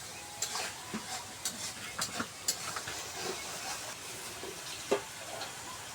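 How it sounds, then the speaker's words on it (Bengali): Chicken pieces and chopped onion sizzle in mustard oil over a wood-fired stove, with scattered stirring clatters and soft crackling across the whole stretch at moderate level. "তেল দিয়ে মুরগি পেঁয়াজ কুচি দিচ্ছি, সরিষার তেল দিচ্ছি"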